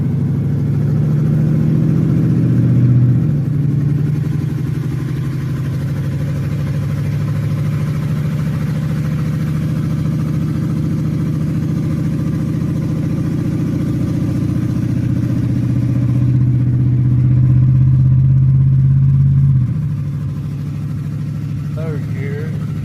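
An eight-cylinder car engine runs steadily for the whole stretch, a low droning rumble with a clattering edge whose pitch shifts at points. Talk can be heard over it.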